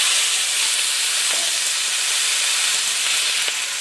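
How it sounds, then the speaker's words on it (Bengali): Dried red chillies and onion frying in hot oil with small potatoes give off a steady, close sizzling hiss that runs unbroken throughout, with no voices. "তেলে একটু শুকনো লঙ্কা দিয়ে দিচ্ছি।"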